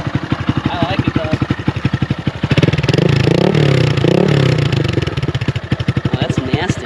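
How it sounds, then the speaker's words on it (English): A Honda Grom motorcycle with a new aftermarket exhaust, baffle fitted, heard up close as a loud, throaty, dirt-bike-like idle that pulses steadily, then climbs through several sharp revs before settling back, with a voice talking over it. "It almost sounds like a dirt bike."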